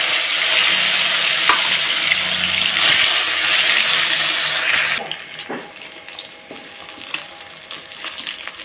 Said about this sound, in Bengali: ভালো করে উল্টে পাল্টে ভেজে নিচ্ছি